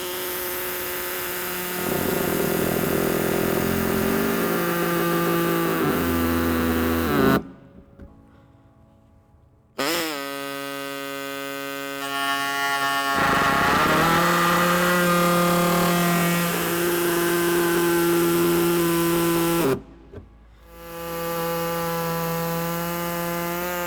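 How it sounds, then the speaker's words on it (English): An air-powered cutting tool slices through a plastic car bumper fascia on a 2018 Subaru Forester, whining loudly in long passes with rising and falling pitch, split by two short silent pauses. "I'm going to be using the air tool with a cutter."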